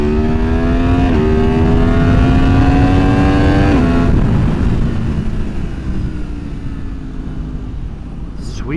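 A 2023 Yamaha MT-10 motorcycle with a Leo Vince decat exhaust accelerating hard in second gear, its loud rising engine whine climbing through revs, a shift, then pulling again and fading slightly as wind noise builds.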